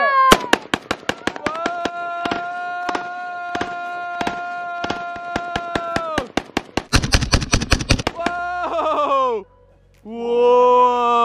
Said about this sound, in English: give us a demo of how this gun shoots